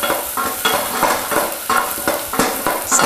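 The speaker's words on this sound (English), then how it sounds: "Saute those for a moment, just until you start to see the onions and celery turn a little bit translucent" Finely minced celery, carrots and onions sauté in a pan for a quick mushroom barley soup, giving a loud, close sizzle with regular scraping strokes of a stirring utensil.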